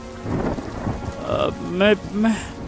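Rain falls under a low rumble of thunder on a stormy night, with cattle lowing close by in three drawn-out calls over the steady patter.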